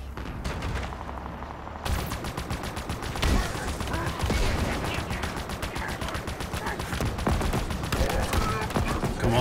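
Rapid gunfire from a big cannon in the Halo Infinite PC mission Pelican Down, a dense, continuous barrage of loud shots and explosions running through the whole stretch with no talk.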